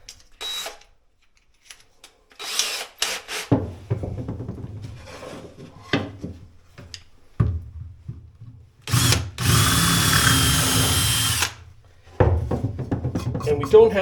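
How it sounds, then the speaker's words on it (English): A power drill widens a hole in a backing plate on the Wave Rover, running in several loud bursts of whirring and grinding with pauses and handling clatter between them, up close and with no talking. "So now I want to make a bigger hole just in this backing plate."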